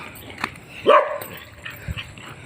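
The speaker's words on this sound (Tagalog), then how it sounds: "Nasa lubong na ako ng aso." A dog gives one sharp bark, followed by softer yips and whimpers, fairly close with light background noise.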